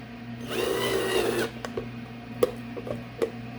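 A power drill whirs steadily for about a second as it drives into a resin jewelry box, then stops, followed by a few sharp clicks and knocks of handling.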